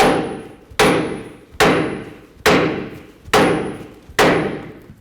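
A hammer pounds a seized cam bolt on the front lower control arm of a 2005–2015 Toyota Tacoma, six loud metallic blows at an even pace, each ringing out and decaying before the next, close up with no talking.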